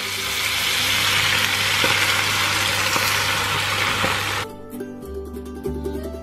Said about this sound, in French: moi, aujourd'hui, je mets du beurre et je mets mes épinards frais